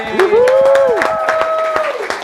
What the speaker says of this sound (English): Guys, a warm round of applause for Alicia Berruti.